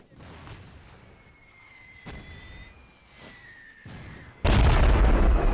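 Heavy howitzers fire in the World War One strategy game The Great War: Total War mod, with soft thumps and a whistling tone before a sudden loud, sustained booming blast near the end, heard alone without talk.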